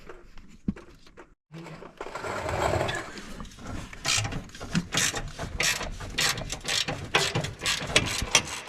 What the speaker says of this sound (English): we're going to want to remove these two 18mm nuts on the frame rail.